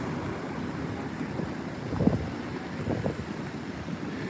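Strong wind buffets the microphone at Flagler Beach Pier in Florida during Hurricane Dorian, with a steady roar of surf beneath it and a few louder gusts.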